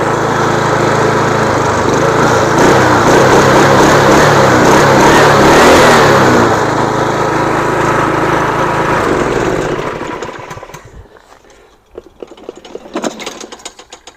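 A replacement engine on a lawn mower runs loud and steady with a droning, slightly rising hum, then winds down and cuts off near the end, leaving faint clicks and handling noises.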